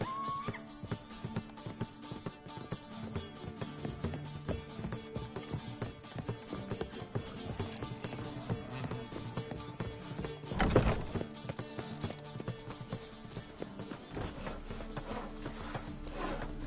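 A horse gallops in The Witcher 3: Wild Hunt, its hooves clip-clopping in a quick, steady rhythm under a game music bed, swelling into a louder burst midway before settling again.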